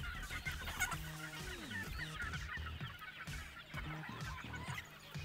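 A flock of backyard local chickens, some of them grown chicks, cluck and chatter busily at feeding time, a dense, continuous mix of overlapping clucks and calls close by.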